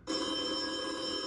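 A phone ringtone starts abruptly and rings continuously, a bright sustained electronic trill, fairly close and steady.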